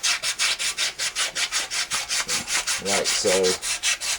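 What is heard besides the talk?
sandpaper sanding a rusted AC fan motor shaft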